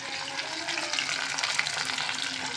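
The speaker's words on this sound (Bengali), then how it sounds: "এই যে তেলাপিয়া মাছ ভাজছি।" Tilapia fish fry in oil in a home kitchen, heard as a soft, steady sizzle and hiss at moderate distance for a few seconds, with no talk.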